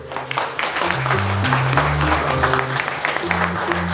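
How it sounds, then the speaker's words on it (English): Guests at an 18th birthday party applaud, a dense and steady wash of clapping that runs throughout over a music bed with sustained low tones. "Can we give them all a loud round of applause?"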